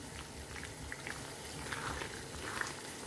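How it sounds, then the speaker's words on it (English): Vegetable gravy for Chinese-style noodles bubbling in a pan as corn slurry is stirred in, a soft, continuous simmer with small pops and faint liquid sounds. "Once that comes to the boil, add in the corn slurry a little at a time and mix"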